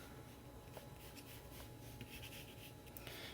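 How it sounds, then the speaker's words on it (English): A pencil sketches a shape on paper for a small statement doll, a faint, close, continuous scratchy rubbing with short strokes. "I just start sketching the shape I think I want."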